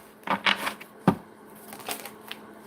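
Tarot cards being shuffled by hand, a few quick soft riffling bursts and a sharp tap at close range, quiet with no talk.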